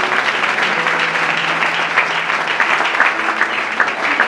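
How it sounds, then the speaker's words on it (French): A church congregation at a French-language service claps loudly and steadily, a dense sustained wash of applause with scattered sharper hand claps and a faint voice underneath. "Acclamons très fort."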